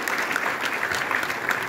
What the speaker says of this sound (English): Applaud me.